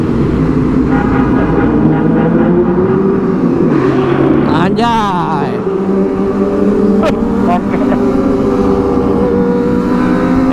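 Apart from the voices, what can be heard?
Kawasaki ZX25R motorcycle revving while riding through tunnel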